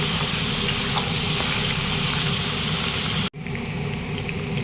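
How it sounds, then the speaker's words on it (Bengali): Fish heads fry in hot oil with onions, giving a continuous loud sizzle that cuts off sharply partway through, then resumes more quietly. "এটা আমি 10 মিনিট ভালো করে তেলে ভেজে নেব পেঁয়াজের সঙ্গে"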